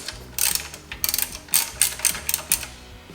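A hand ratchet loosening a 12mm bolt on the belt tensioner of a 2004 Subaru Forester XT gives off rapid bursts of clicking pawl, several quick strokes in a row, close and loud.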